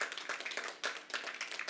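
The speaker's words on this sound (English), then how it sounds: "Give them a big round of applause," Clapping at a horse-racing post position draw for the Mouttet Mile at Caymanas Park, Jamaica: a small group applauding in uneven, faint bursts that swell and dip across the short stretch.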